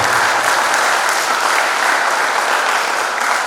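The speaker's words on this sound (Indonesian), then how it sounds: "Mari kita berikan aplaus kepada orang tua." An audience at a high school graduation ceremony applauds the parents with dense, loud, sustained clapping that fills the whole stretch without a break.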